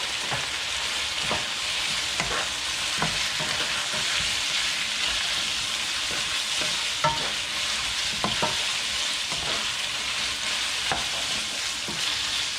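Tripe and sausage fry in a pan for callos while being stirred, with a steady close sizzle and scattered scraping clicks of the spoon throughout.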